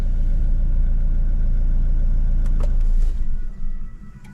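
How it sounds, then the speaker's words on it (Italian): A car's engine idles with a steady low rumble, then shuts off, leaving a brief mechanical settling as the sound fades out near the end, loud and close, no talking. "Spegniamo l'auto."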